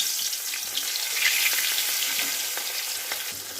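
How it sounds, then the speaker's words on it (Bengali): Pieces of katla fish belly sizzle steadily in hot oil, a continuous dense frying crackle with small pops throughout, close and fairly loud with no voices. "মাছগুলো ভেজে নিয়ে ফিরে আসছি।"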